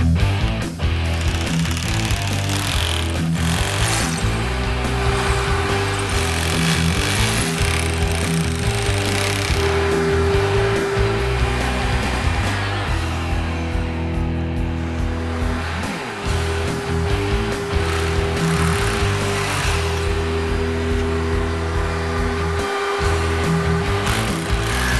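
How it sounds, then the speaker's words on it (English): An 8mm masonry bit drills into a masonry wall, a loud continuous hammering grind with a steady motor drone, heard up close and unbroken for the full length. "With an 8mm masonry bit, let's finish drilling the sides."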